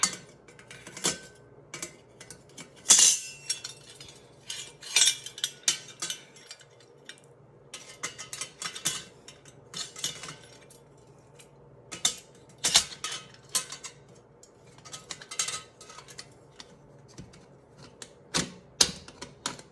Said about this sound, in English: This is my food mill. So let's put this thing together and I will show you how it works from here.